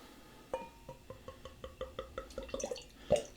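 Beer glugs from a Goose Island Bourbon County stout bottle into a branded glass, a series of soft rhythmic drips and gulps speeding up before a final louder splash, close and quiet.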